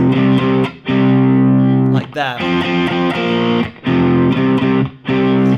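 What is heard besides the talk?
distorted electric guitar riff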